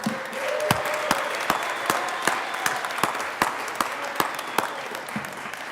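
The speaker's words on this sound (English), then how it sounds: "let's give a huge round of applause" Applause fills the Colorado Senate chamber, a steady round of many hands clapping with a few sharp louder claps standing out, with no talk over it.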